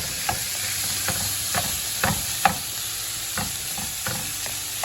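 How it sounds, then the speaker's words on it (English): Celery and a little mushroom sauté in a pan, a steady moderate sizzle running throughout, broken by regular soft clicks and scrapes from a utensil stirring at a steady rhythm. "you cook those up until the vegetables are soft"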